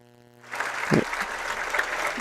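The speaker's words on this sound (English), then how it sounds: "I wanted you guys to hear the crowd clapping" Crowd clapping at a varsity high school football game, a dense wash of applause that swells in after a brief quiet moment and holds steady at moderate distance.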